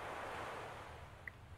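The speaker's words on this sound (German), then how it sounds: "Och, Meer." Sea waves in the video game Eternal Edge+, a steady, soft wash of surf with a windy hiss running unbroken and fairly faint, plus one short bright chime near the end.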